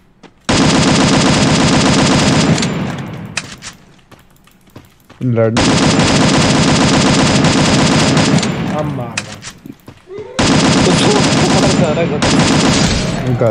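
Mobile shooting video game gunfire: loud sustained automatic bursts in three long volleys separated by short gaps, with scattered single shots between them.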